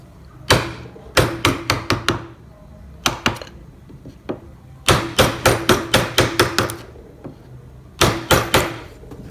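A mallet strikes a gouge chisel while carving wood, giving crisp, close taps in quick bursts of four to six separated by short pauses.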